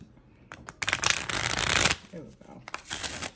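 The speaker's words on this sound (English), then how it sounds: "Let me get one more shuffle." A deck of tarot or playing cards is riffled and shuffled up close in quick bursts during a card reading, with a brief pause of soft voice between shuffles.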